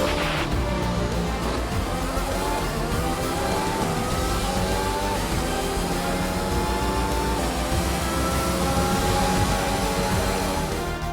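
A Formula 1 car engine in the F1 2021 video game drones steadily on the in-lap after the Belgian Grand Prix, with the sustained tonal whine rising and falling slightly as the car cruises.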